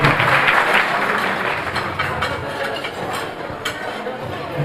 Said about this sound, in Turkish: Onlar için de sizlerden bir alkış rica ediyorum.